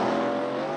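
A 1969 Camaro and a 1990 Mustang launch in a drag race with a loud, sustained engine roar that fills the whole moment at close range.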